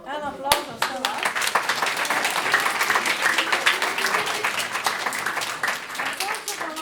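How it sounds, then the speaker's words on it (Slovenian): A full hall audience at a Christmas and New Year show applauds warmly, a dense, sustained clatter of many hands that starts with a sharp clap and continues steadily with some voices mixed in. "En aplavz za vse vas."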